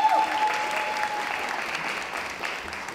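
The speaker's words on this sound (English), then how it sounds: "So can I have a round of applause for them?" Applause from an audience at a New York Fashion Week event, a steady dense wash of clapping for about three seconds, loud and close, with no talking over it.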